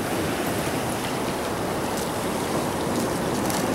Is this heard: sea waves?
yes